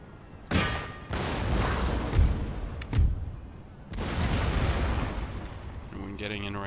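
Canister shot artillery volleys in Empire: Total War, France campaign: several loud booming cannon blasts that roll into sustained rumbling fire, with a faint voice near the end.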